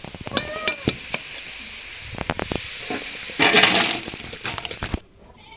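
Boal fish frying in oil with a steady sizzle, cut through by sharp metal clinks and scrapes as the pieces are turned, and a burst of louder spattering near the end before things go quiet.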